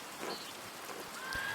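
Steady rainfall inside the video game Pentiment, a soft, even patter held at low level throughout with no talk.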